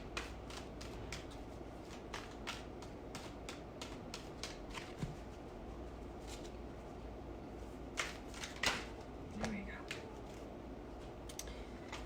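Tarot cards shuffled in a steady run of soft riffling flicks and slaps, close and fairly quiet, with occasional sharper card snaps and no talking.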